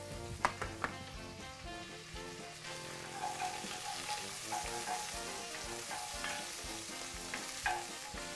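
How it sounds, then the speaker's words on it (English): Polish sausage meat browning in a pan, a steady close sizzle of frying with occasional sharp clacks of stirring near the start and end. "We're going to brown off the meat first."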